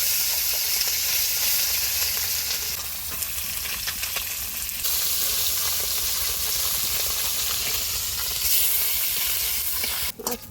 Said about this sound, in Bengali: তেলটা গরম হয়ে গেছে, একে একে মাছটা দিয়ে দিব কড়াইতে।